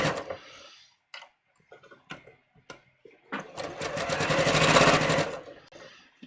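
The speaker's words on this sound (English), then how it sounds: "I'm just going to run one row of stitching here" A home sewing machine runs one row of long stitches along a sleeve cap, with a few scattered ticks and clicks first and then a steady, rapid mechanical whir for a couple of seconds up close.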